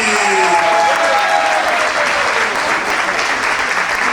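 Loud, steady applause from a large crowd at a fashion show in Legnago, Italy fills the whole stretch, dense clapping with faint cheering mixed in.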